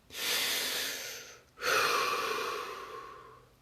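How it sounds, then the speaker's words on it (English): Two deep breaths are drawn in close up, each a long, airy inhale with a short pause between them and no speech. "Deep breath."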